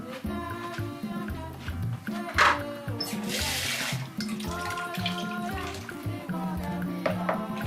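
Cold water running into flour mixed with vegetable cooking oil to form spring roll dough, a steady splashing pour that swells through the middle, over a background of faint harmonic music.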